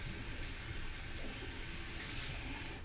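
A shaving brush rinsed under a running tap, a steady close hiss of flowing water that stays constant and fairly loud throughout, with no talk.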